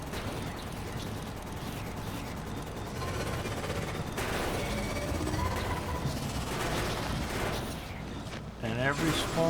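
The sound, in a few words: defensive gun turrets firing at enemies in video game Factorio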